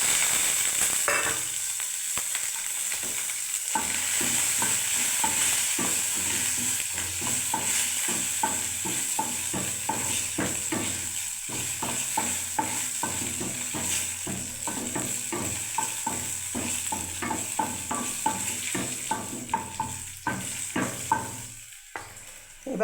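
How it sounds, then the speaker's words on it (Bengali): Cumin, dried red chillies and chopped garlic spluttering in hot oil for a mung dal tempering with bottle gourd, a continuous close sizzle broken by rapid crackles and repeated stirring scrapes. "এবার আমি দেখুন জিরে শুকনো লঙ্কা বন্ধুরা দিয়ে দিচ্ছি লাউ মুগ ডালের জন্য"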